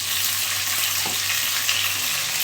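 Tomato sautéing in a pan for pirandai (veldt grape) chutney, a steady close sizzle and frying hiss throughout with a few faint stirring scrapes, no voices.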